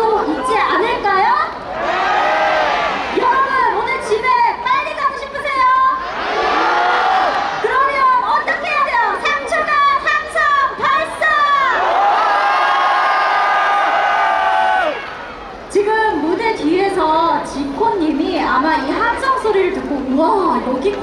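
Concert crowd at an outdoor youth day festival roaring and cheering in repeated waves, with a host's amplified voice speaking loudly over and between the surges of noise.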